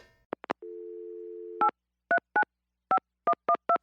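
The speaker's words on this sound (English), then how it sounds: "here's his latest voicemail message." Voicemail system tones: a couple of short beeps, a steady one-second tone, then a rapid series of touch-tone dialing beeps, clean and close with no voices.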